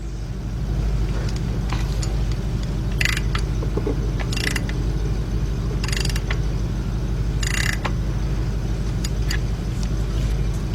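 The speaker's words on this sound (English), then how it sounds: "So I'm going to use my ratchet, half-inch drive ratchet." A half-inch drive hand ratchet loosening a bolt threaded into aluminum on the engine of a 2003 Jeep Liberty Sport 3.7, four short clicking bursts spaced a couple of seconds apart over a loud constant low hum.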